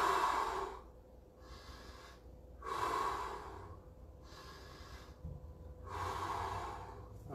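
Slow, deep breathing during an online karate class warm-up: three long nasal inhalations alternating with quieter exhalations in a steady rhythm, close and fairly loud with no talking.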